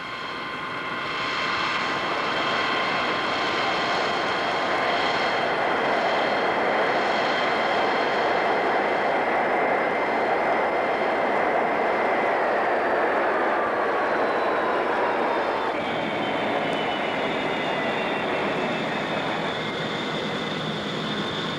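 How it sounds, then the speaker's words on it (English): A McDonnell F-101 Voodoo jet aircraft roars in a steady, loud sustained rush with a high whine whose pitch slides downward, continuous throughout with no voices. "The aircraft is the McDonnell F-101 Voodoo."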